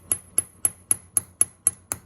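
A slightly heavy hammer strikes a chasing tool on metal eight times at an even, brisk rhythm, each tap a sharp, close metallic click with a faint ring, no talking.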